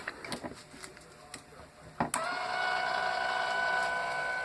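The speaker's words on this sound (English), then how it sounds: "We'll do another cycle or two just to show you the motion. It is kind of slow, but then again it is capable of hefting." A linear actuator cycles a car's sway bar suspension, starting with a few scattered ticks and clicks, then settling into a steady, close mechanical whir that runs on alone at an even level.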